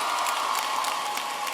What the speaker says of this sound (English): So let's give this cast of Scandal another round of applause.